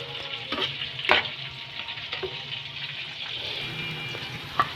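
Fish pieces frying in oil until golden brown for a Lahori fish curry, a dense, steady close sizzle with occasional louder crackles and spatters, no voices.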